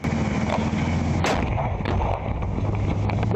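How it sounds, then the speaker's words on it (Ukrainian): A heavy blast from a handheld anti-tank grenade launcher fired at an enemy armoured vehicle booms out amid constant wind-buffeted roar, followed by rumbling echo and smaller thuds; loud, with no voices. "стріляє з ручного протитанкового гранатомету по ворожому панцернику"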